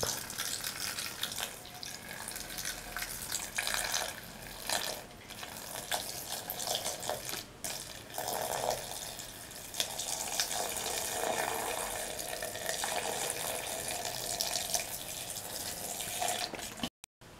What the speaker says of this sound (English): Pour in 500 ml of milk.